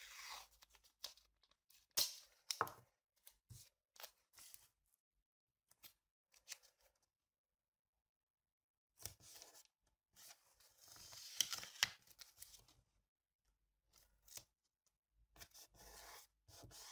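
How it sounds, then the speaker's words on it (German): Scissors cutting paper decorations at a desk for a planner, heard as faint, close snips and rustling paper in scattered bursts with a long quiet gap in the middle. "Ich schneide das hier mal direkt ab, damit es nicht immer am Tisch kleben bleibt."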